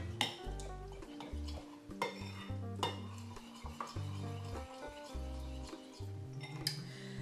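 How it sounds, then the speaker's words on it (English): A utensil works through a chocolate and butter mixture in a bowl, making quiet, irregular scrapes and clinks against the dish, with a low tonal hum running underneath. "We want to work that well into the chocolate butter mixture."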